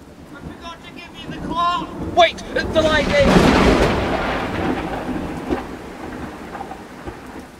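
A thunderstorm with a loud thunder rumble rising and then slowly rolling away beneath steady rain. Voices are heard just before the thunder.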